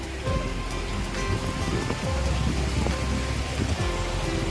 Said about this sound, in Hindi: इसके झरने की आवाज़, पानी के गिरने की आवाज़ है